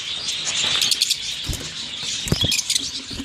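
Pet budgerigars in an aviary colony, a busy close chorus of chirps and twitters, with soft rustling and a few knocks in between.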